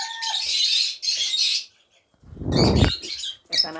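Pet lovebirds and cockatiels at a bird sale, heard close in short bursts of sharp chirps and squawks with brief silent gaps between them and no voices.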